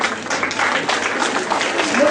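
Applause from a crowd of students and staff at a school Republic Day assembly, a dense steady patter of clapping lasting the whole stretch, fairly close.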